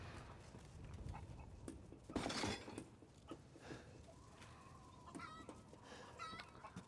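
Clucking chickens in the horror game Resident Evil Village, repeated short calls with one louder flurry partway through, set against a constant murky background ambience.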